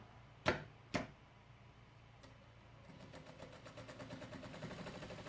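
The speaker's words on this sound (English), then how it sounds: "So I'm just sewing, like doing a crosshatch across it basically, just a massive crosshatch" A sewing machine stitching a large crosshatch across fabric: two sharp clicks, then a quiet, rapid, even needle rhythm that starts up and runs steadily, close and soft.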